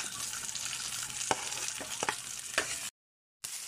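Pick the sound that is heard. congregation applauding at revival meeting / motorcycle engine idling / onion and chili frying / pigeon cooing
onion and chili frying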